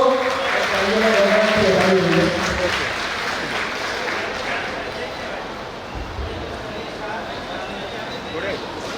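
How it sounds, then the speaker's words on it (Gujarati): Applause from an audience at a high school teachers' felicitation ceremony fills the room as steady, loud clapping that slowly thins out, with voices talking over it at first. "તાળીઓ લગાવો મિત્રો."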